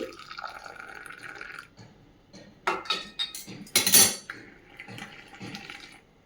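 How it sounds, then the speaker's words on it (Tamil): Filter coffee poured from a height between metal vessels to froth it: splashing, dripping liquid with clinks of metal, loudest in a couple of strong pours mid-way, with no talk. "இந்த மாதிரி நல்லா இப்படி மேலேருந்து ஆற்றினா நுர வரும்."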